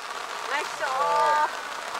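Rain falls on a golf course, making a soft, steady hiss throughout while a person talks over it.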